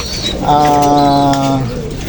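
A racing pigeon coos once nearby, a soft, low, drawn-out warbling call that rises and fades over about a second.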